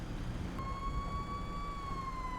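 An ambulance siren starts abruptly about half a second in and then holds a steady tone, loud and close, over a constant rumble of traffic and street noise.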